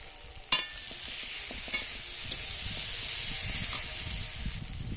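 Fried potatoes and spices being stirred in a pan, a continuous sizzle and hiss with scattered scraping clicks of a utensil, including a sharp knock at the start, close and without speech.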